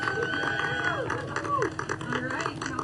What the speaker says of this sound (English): Some thunderous applause is always a good sign.